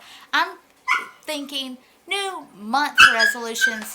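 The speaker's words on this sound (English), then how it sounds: "I'm sorry about my dog in the background." A dog barks and whimpers in the background while a person keeps talking over it in the foreground.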